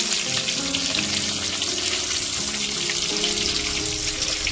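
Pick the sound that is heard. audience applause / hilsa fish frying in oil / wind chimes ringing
hilsa fish frying in oil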